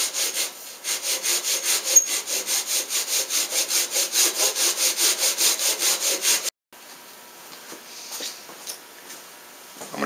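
A hand saw cuts wood with its aggressive cut side, the workpiece held in a vise, giving steady rhythmic rasping strokes for about six seconds. A brief silence follows, then lighter scattered scraping.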